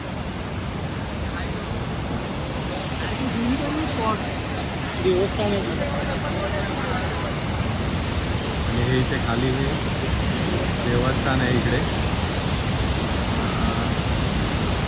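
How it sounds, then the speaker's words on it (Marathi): Water rushes and overflows at a rainy-season picnic spot, a loud, steady broadband roar that runs the whole time while someone talks over it. "पाण्याचा ओव्हरफ्लो तुम्ही बघू शकता"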